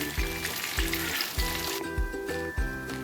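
Stuffed banana (pazham nirachathu) frying in oil in a pan, a steady bubbling sizzle with soft repeated low thumps throughout.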